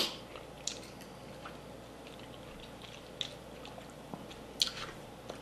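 Someone chewing a Prosecco-flavoured bonbon with a marshmallow-like texture, heard as faint, close, soft squishy mastication with a few sharper clicks scattered through a quiet background.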